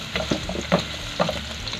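Ginger, onion and garlic sauté in a pan with a close, continuous sizzle, broken by a few scraping stirs and soft clacks.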